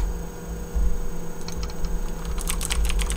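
Typing on a keyboard in the video game Archimedes, a run of quick clicky keystrokes, sparse at first and then faster in a dense burst, over a steady electrical hum.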